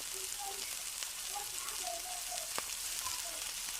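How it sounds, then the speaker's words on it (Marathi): Bread snacks deep frying in hot oil, turned to cook both sides, give a steady broadband sizzle with scattered crackles and pops, close and moderately loud, with no speech. "आता दोन्ही बाजून तळून झालं की आपण आपल्या प्लेटमध्ये काढून घेऊया"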